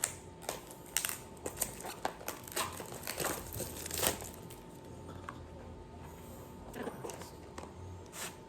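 Plastic wrapping crinkles and crumples close up as the brand-new box of a wireless vlogging microphone is opened, with irregular rustling bursts and occasional speech.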